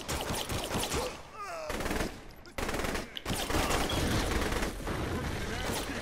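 SMG gunfire rattles in the Saints Row The Third Remastered video game during a wrestling match, loud bursts of rapid automatic shots broken by short gaps, mixed with other game noise.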